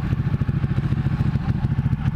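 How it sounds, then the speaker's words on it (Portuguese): Ducati 1199 Panigale two-cylinder motorcycle engine revving loudly and close, with a rapid, even throbbing pulse throughout and a rough, clattering mechanical edge. "A moto é muito brava, você viu segunda marcha só no acelerador"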